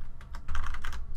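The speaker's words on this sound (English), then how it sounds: "Let's just type instead of using the mouse." Typing on a computer keyboard makes a quick burst of close, crisp key clicks, about eight taps in just over a second, with no talking.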